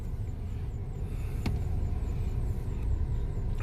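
A 1999 Honda Accord engine runs steadily with a low, continuous rumble, heard from inside the car with a brief click partway through; the car has a new transmission and a finicky ignition.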